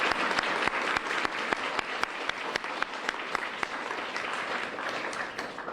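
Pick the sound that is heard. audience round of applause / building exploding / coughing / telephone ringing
audience round of applause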